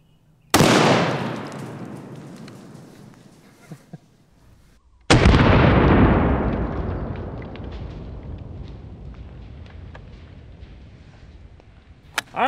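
.338 Lapua Magnum sniper rifle fires two very loud, sharp shots several seconds apart, each followed by a long, slowly fading rolling echo outdoors, with a faint clatter afterward.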